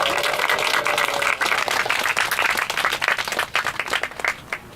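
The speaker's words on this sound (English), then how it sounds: "let's give them a round of applause" A group claps at an Oahu division meeting, a dense burst of applause that thins into scattered, separate claps near the end.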